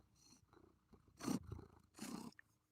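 A male cat purrs softly and close by, a low rumbling that swells in two or three louder surges over quiet background.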